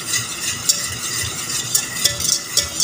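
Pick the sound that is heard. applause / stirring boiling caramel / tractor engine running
stirring boiling caramel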